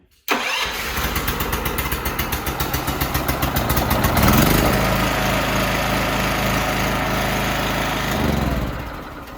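A new petrol generator is started on its electric starter, cranking in a rapid series of pulses for several seconds before firing into a loud, steady close-up running drone.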